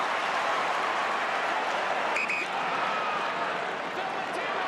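Broad roar of an Australian football crowd at an Essendon versus West Coast Eagles match, swelling steadily behind a free kick lined up at goal, with a brief whistle-like tone cutting through the noise midway.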